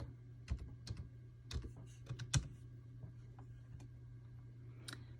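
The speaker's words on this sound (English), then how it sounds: "up in the search bar, I'm going to type in tumbler" Typing on a computer keyboard, with a handful of soft, scattered key taps up close over a low background hum.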